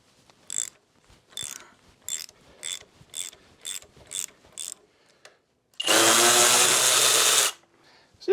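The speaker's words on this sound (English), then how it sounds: "Next is going to be remove the whole foot peg mount. It should take a 5/16 Allen socket." A socket ratchet with a 5/16 Allen bit clicks in about nine short, regular bursts as it works tight motorcycle foot peg mount bolts, followed by a loud, sustained hiss-like burst of noise and a quieter tail.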